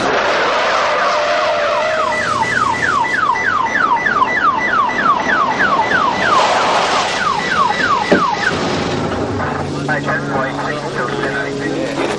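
An ambulance siren wails in fast repeated rising sweeps, loud and continuous, over a rumbling background with a change in pattern near the end.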